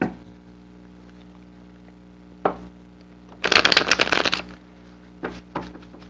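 A tarot card deck is shuffled close by in a quick riffling burst, with a few lighter card taps and clicks before and after against a quiet room.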